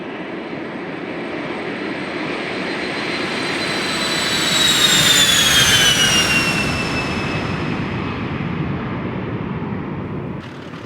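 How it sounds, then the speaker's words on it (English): A Cessna Citation X in the flight simulator X-Plane 12 gives a continuous loud jet engine roar with a high whine that rises and falls as the sound swells midway, then settles. "here's a quick look at the second major default aircraft, the Cessna Citation X"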